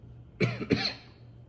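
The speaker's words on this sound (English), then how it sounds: "Still got some cough." Two quick, close coughs in a row, harsh and breathy, with a faint steady hum underneath and quiet afterward.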